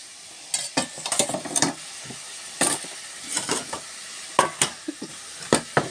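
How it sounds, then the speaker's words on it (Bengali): Pre-fried fish heads being sautéed in a pan, intermittent bursts of sizzling and spatula scraping with quieter gaps between stirs, close by. "এখানে মাছের মাথাগুলোকে ভেজে রেখেছি, এটার মধ্যে আমি কষিয়ে দেব"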